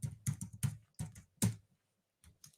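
Computer keyboard keys typed into a search bar: a quick burst of close, crisp clicks, a short pause, then two more taps, with no voices.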